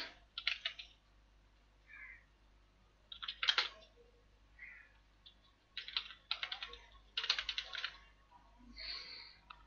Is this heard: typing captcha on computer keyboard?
yes